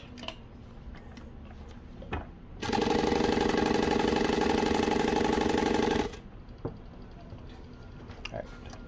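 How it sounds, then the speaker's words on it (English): A sewing machine runs one continuous stitching burst of about three and a half seconds, a steady loud mechanical whir rising sharply above quiet room noise and stopping abruptly. "I'm going to pull the bobbin thread up and I'll sew a line"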